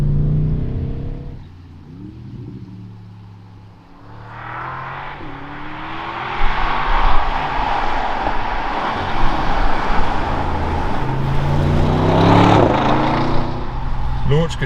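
A 2021 Audi RS7 Sportback quattro idles, then makes a hard 0 to 62 launch using launch control. A loud, rising engine roar and rushing road noise build and hold for several seconds.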